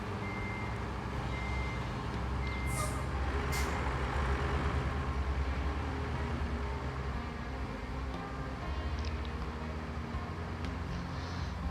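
A truck being filled with sand in the RoadCraft video game: a steady, dense rushing roar that runs on without a break, with a few short high beeps over it.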